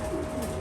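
Pigeon cooing inside a pigeon loft, a brief low throaty coo heard close and fairly clear over a steady background hum.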